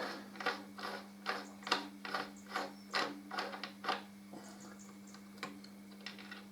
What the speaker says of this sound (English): I can take off the big nut on this side